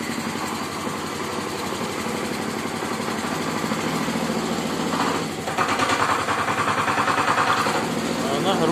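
A DTZ 570 walk-behind tractor engine runs steadily with a vacuum pumpkin seeder attached. The close, loud drone is continuous and rises slightly in intensity partway through.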